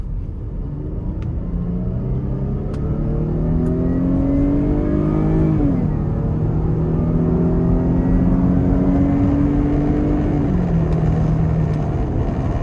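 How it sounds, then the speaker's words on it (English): A 2015 Jeep Grand Cherokee Summit with the 3.6 V6 accelerating hard onto an interstate, engine note rising steadily through the gears with clear shift drops, loud and close from inside the cabin over constant road rumble. "Now I'm gonna give it a little bit of a pull getting on the interstate."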